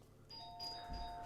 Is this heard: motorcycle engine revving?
no